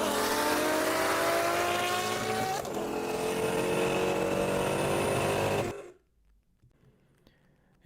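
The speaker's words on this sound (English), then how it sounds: "roadway traffic noise is caused by the vehicle's engine and tires" A fast-moving vehicle speeds along a roadway, loud engine roar and tire noise filling the sound, a pitch shift as it passes, then cutting off abruptly into near silence.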